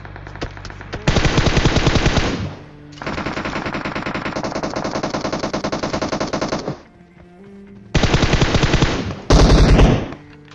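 M4 rifle fire in PUBG Mobile: loud, close sustained automatic bursts, a long continuous string, then a pause and two more short bursts near the end.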